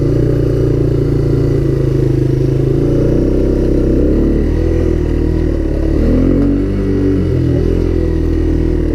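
A Honda Big Red 250 three-wheeler engine runs steadily and loud while being ridden on a trail, a continuous close mechanical drone with slight shifts in pitch and load, with no voices over it.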